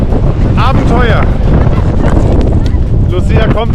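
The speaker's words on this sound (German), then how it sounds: "Hier oben geht der Wind ohne Ende." Strong blizzard wind on the Stubai Glacier roars steadily and loudly into the microphone, with a voice talking under the gusts.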